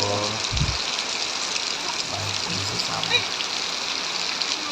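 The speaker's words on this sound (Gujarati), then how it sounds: "જોરદાર વરસાદ પડે છે" Steady rain hisses down heavily, a dense continuous wash of water noise with a brief low thump near the start.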